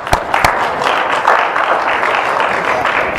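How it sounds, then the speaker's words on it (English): Church congregation at a Sunday celebration service clapping, a couple of sharp near claps at the start giving way to a steady wash of applause from the room. "Give yourselves a round of applause."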